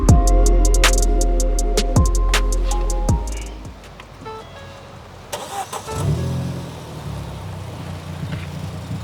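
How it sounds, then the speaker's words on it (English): A Ford Fiesta ST engine cranks with clicking starter noises, catches, and settles into a rough idle with a few light revs. "can you please start it up for us?"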